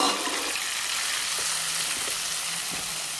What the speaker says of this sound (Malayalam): ഈ തക്കാളി സവാളയും കൂടിയിട്ട് ഇട്ട് മൂപ്പിച്ചെടുക്കാം.